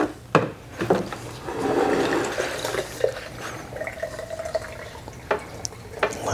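Water drains out of a Betco Fiber Pro 8 vacuum system, a splashing gurgling rush mixed with drips and a few sharp plastic knocks and clunks nearby.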